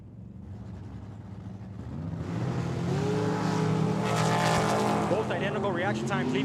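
A dragster and a small roadster launch side by side down the Tucson Dragway strip, engines swelling from a low idle into a loud, sustained roar that builds and holds to the end.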